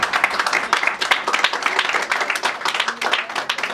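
Congregation at a church service clapping together in a steady, dense patter, a crowd sound filling the space with faint voices mixed in.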